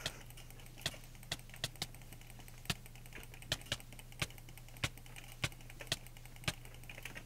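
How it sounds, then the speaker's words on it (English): Sharp clicks from a Razer Naga gaming mouse during Minecraft PvP, about a dozen crisp taps at uneven intervals over a steady low hum, close and clear with no talking. "I don't know if you can hear my clicking or not. You should, because it's a Razor Naga."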